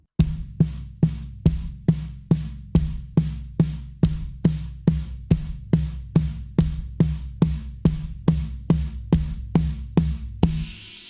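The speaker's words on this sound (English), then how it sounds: "you can take it down to the floor tom and do the exact same build" Steady, evenly spaced drum strokes on a deep floor tom, about two dozen booming hits in a row, ending with a brighter crash-like ring.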